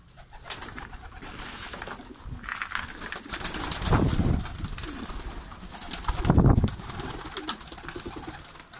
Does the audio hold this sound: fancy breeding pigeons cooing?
yes